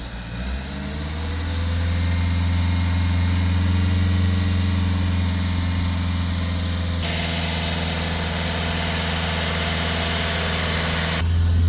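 A Nissan NV300 diesel van engine with P0470 and P0471 fault codes drones steadily at high revs, a loud, constant roar with a deep rumble and no pauses.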